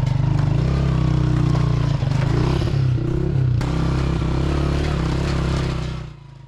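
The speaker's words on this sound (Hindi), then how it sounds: "एक जगह तो इतनी चढ़ाई मिली कि बाइक ने आगे जाने से इनकार कर दिया।" A motorcycle engine labors loudly and steadily up a steep off-road mountain track toward Rama Lake, with clattering and scraping over rough ground before the engine note drops away at the end.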